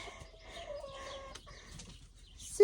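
A hen clucks in soft, drawn-out murmurs close by, with faint rustling and a sharp click at the end.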